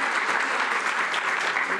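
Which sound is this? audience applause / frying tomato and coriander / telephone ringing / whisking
audience applause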